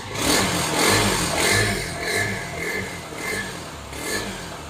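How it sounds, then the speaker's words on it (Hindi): A Honda CB150F motorcycle engine, freshly serviced at home, runs close by and is revved repeatedly to high RPM, in a series of rising and falling surges over a steady running drone, with no talk. "मैं ज़रा हाई आरपीएम पे रेस दे के चेक कर रहा था"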